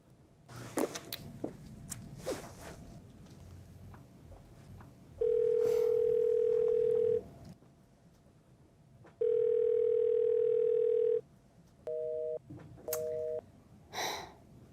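A phone call goes unanswered: two long ringback tones, each about two seconds with a pause between, then two short beeps, heard alone with faint rustling and handling noise around them.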